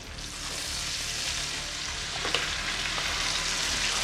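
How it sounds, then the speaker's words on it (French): Beef for boeuf bourguignon searing in a hot pan, a continuous loud sizzle and crackle with faint scraping and stirring noises, no voices. "on cherche juste à faire une coloration sur notre viande. On appelle ça la marquer."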